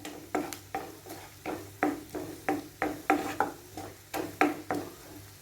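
Chili powder masala being sautéed in a pan, a steady run of about a dozen rhythmic scraping stirs over a faint sizzle, close and moderately quiet.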